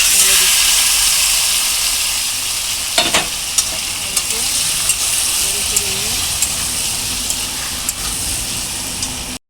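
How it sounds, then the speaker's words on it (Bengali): Marinated raw hilsa fish tipped into a hot pan sets off a loud, hissing sizzle that stays dense and steady, with faint clicks and light knocks scattered through it. "এখন দেখো আমি যে মেখে রেখেছি মাছগুলো সবগুলো ঢেলে দিচ্ছি"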